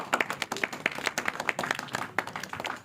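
Students in a classroom clap their hands in an uneven, lively burst of several overlapping claps, close and fairly loud.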